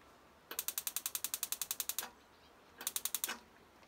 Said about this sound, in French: On doit entendre un petit clic.